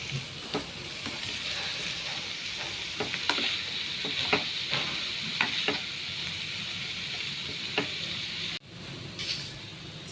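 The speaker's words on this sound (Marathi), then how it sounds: "ती मातशें फोंडा भाजयता." Onion fries for a Goan banana flower bhaji, giving an even, fairly quiet sizzle with scattered light taps and scrapes from stirring and no talk, then a brief cut near the end.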